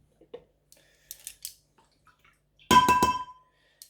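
A metal tablespoon clinks a few times against a container while glycerine is measured into a homemade foaming body wash, small scattered taps and then a brighter cluster of ringing clinks.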